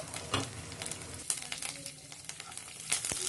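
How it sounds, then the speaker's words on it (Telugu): Curry leaves crackle and sizzle in hot oil as a tempering for a green chilli tomato chutney, a quiet, steady frying hiss with small pops and stirring scrapes. "ఇప్పుడు ఈ కరివేపాకును కూడా బాగా ఫ్రై చేసుకొని"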